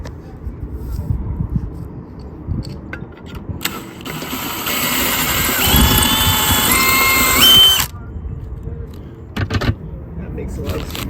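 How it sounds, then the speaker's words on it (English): A power drill whines for a few seconds at close range, its pitch rising briefly before it stops, with bumps and handling noise around it. "Makes a lot of sense to get one right and then drill the second one."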